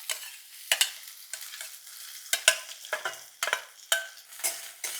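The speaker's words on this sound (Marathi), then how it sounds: "कांदाही 2 मिनिटं परतूया." Spring onion and garlic sautéing in a hot pan, with repeated scraping strokes of a spatula stirring at an irregular rhythm over a soft, steady sizzle, close and fairly quiet, with no talking.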